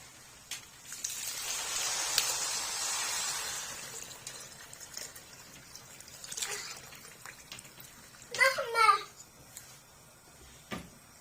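Broth poured from above into a pot of sautéed basmati rice, making a steady splashing hiss that swells and fades over several seconds, followed by a few clinks and light kitchen knocks.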